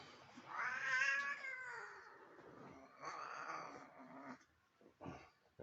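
A frightened, violent cat being held tightly lets out drawn-out, harmonic meows and caterwauling growls, two main cries followed by shorter bursts, close and fairly quiet with no talking.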